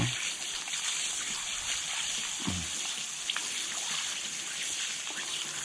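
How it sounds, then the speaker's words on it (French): A wild boar piglet's liver rinsed under running water, a steady close hiss of flowing water with faint splashes throughout, no talking. "je rince comme il faut mon foie"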